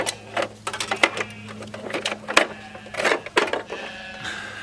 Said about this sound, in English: And then I do my chisel work. Now this takes a while, but I do enjoy it.